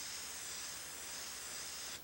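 An airbrush sprays paint onto canvas with a steady, soft, airy hiss that holds evenly and cuts off at the very end. No one speaks.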